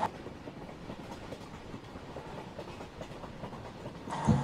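A train in the Open Rails train simulator game, a parcel train called HP4 approaching a level crossing, with a steady rumble and faint rhythmic wheel clatter that swells louder at the end.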